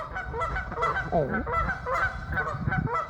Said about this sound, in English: looks like the geese are going to be enjoying most of the healthy duck feed